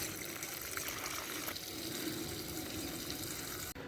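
Water pours steadily onto broccoli plants in a rooftop garden at dusk, a continuous close splashing gush that holds even for about four seconds, with no talking.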